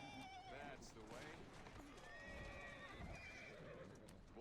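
In the game Assassin's Creed Syndicate, a horse whinnies with rising, wavering calls over continuous clip-clopping hooves and street bustle, with voices talking alongside.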